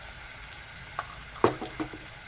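A spoon stirs turmeric into a mushroom dish frying in a pan, giving a few soft scraping clicks and light sizzle, close and quiet, with no talking.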